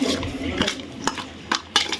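A spoon scrapes and clinks against a pot while Ugadi pachadi with tamarind is stirred, giving a few sharp metallic knocks and soft scraping strokes, close and fairly loud.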